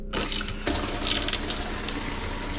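Water runs steadily from a single-lever shower in a Lance RV, starting abruptly and pouring in a continuous close hiss for a couple of seconds with no talk.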